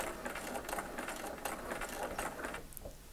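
A sewing machine stitches a quilt seam on an eight-point star block with a steady, close rattle of rapid needle strokes. It runs for about three seconds, then slows toward the end.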